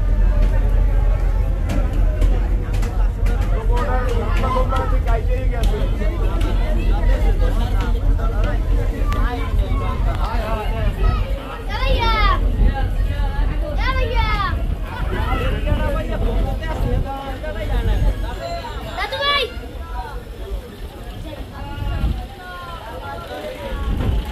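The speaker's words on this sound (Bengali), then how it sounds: "এখন আয়লা লঞ্চ ঘাট থেকে এখন ছেড়ে যাবে লঞ্চটি" A passenger launch pulls away from Ayla launch ghat. A steady low engine rumble runs under dense crowd chatter and nearby voices, with occasional bright clatter and shouts throughout.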